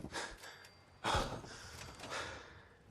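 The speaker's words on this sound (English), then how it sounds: "You don't have to listen to that heavy breathing." Heavy breathing in Fallout 4, a few close, audible breaths, including a sharp gasping inhale midway, against a quiet background.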